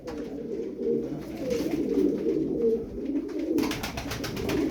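Low, throaty cooing of several pigeons, steady and overlapping, close by, with a faint rustling and scratching hiss joining near the end.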